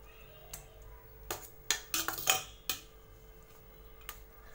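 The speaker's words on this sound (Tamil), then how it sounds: "இப்போது லெமன் ஜூஸை நல்லா நான் சாதத்தோடு மிக்ஸ் பண்ணிட்டேன்" Cooked rice being stirred with lemon juice in a metal vessel: several sharp clinks and scrapes of a spoon against the pot, clustered in the middle, close and fairly quiet against a low hum.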